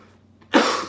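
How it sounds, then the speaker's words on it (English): A single sharp cough from someone with a cold bursts out after a moment of near silence, close and loud, with a quiet throat sound just before it. "still coughing from the cold."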